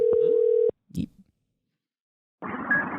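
A telephone ringback tone plays while a call is placed, a steady electronic beep that cuts off, followed by a short click, a pause of silence and then a burst of line noise.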